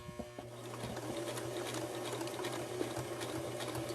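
A sewing machine stitches a homemade face mask with a continuous, fast mechanical whir and rapid needle clatter, close and steady throughout.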